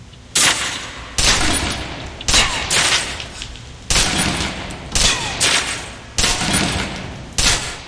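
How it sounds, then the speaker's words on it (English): Submachine gun in the video game Alpha Protocol emptying its magazine: about seven loud, close bursts of rapid automatic fire, each under a second long, separated by brief gaps, with no talking. "Now, let's move on to the submachine gun. Now let's empty the clip."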